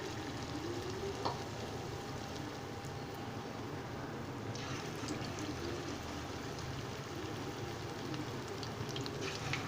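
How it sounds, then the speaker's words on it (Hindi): Pakoras sizzling steadily in hot cooking oil, a dense continuous frying hiss with soft bubbling crackle throughout, close and even in level, no voices. "कुकिंग ऑयल मेरा बहुत अच्छे से गर्म हो गया। अभी पकौड़े डालने इसमें शुरू करते हैं"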